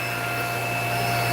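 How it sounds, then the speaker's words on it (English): Air blower running steadily in an aquarium fish room, a loud continuous whooshing hum with tonal whine, close by and unbroken, with no voices. "it's going to get a little noisy when we go over by the blower"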